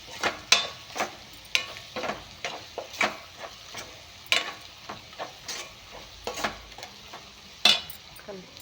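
Capsicum frying with spices in a pan, stirred with a utensil that clinks and scrapes in irregular taps and strokes over a faint sizzle, close and fairly quiet.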